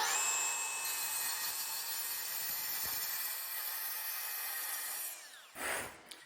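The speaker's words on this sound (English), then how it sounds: "For the first cut, I'm going to switch off the scoring blade so that only the main blade is cutting." A track saw cuts melamine with only its main blade, a high steady whine that holds for several seconds and then spins down, followed by a brief soft rush and a small knock.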